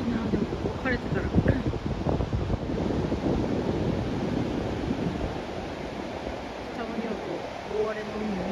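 Rough, stormy sea at Long Bay, Auckland, with waves surging and a steady gusting wind buffeting the microphone throughout; brief voices appear early on under the noise.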